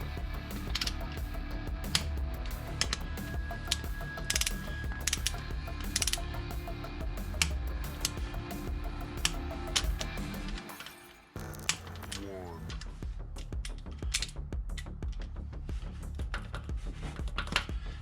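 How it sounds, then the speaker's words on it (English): A ratchet wrench torquing down rocker arm bolts on an LS3 engine: rapid, continuous clicking of the pawl with metallic clinks, close and steady, briefly pausing midway before the ratcheting resumes. "Now I'm going to torque that down."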